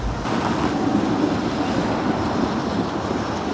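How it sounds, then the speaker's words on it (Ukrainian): A tram rolls past on a street in Lviv, a steady broadband rumble and rattle of wheels on rails close by, continuous for a few seconds with no talk. "Львів, трамвай."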